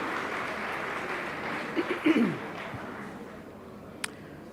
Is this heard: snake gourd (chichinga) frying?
no